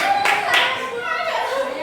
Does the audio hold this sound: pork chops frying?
no